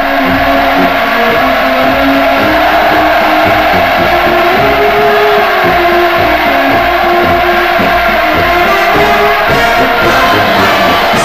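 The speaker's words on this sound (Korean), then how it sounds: "친선과 연대성의 환호를 올렸습니다" A huge crowd cheering in North Korea during Putin's visit: a dense, loud, continuous roar of many voices with sustained chanted tones, unbroken for over ten seconds.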